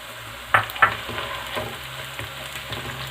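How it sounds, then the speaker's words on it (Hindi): Onion with garlic and a piece of ginger frying in a pan, a soft steady sizzle with a few sharper crackles and stirring knocks near the start, fairly quiet with no voices. "इसको भी फ्राई होने दें।"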